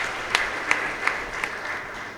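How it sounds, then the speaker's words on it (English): Mourners at a vigil for a late brigadier general clap together in a few measured, rhythmic bursts, fairly steady and moderately distant over a low room hum. "we shall clap for you again"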